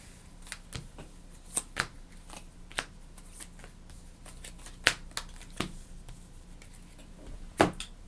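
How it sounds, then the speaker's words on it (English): A deck of game cards being shuffled for a board game, quiet close riffles and snaps in irregular bursts with pauses between. "We need to shuffle his deck back up."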